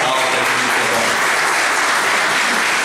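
An audience at a football awards ceremony applauds loudly and continuously, a dense wash of clapping with a faint murmur of voices beneath it.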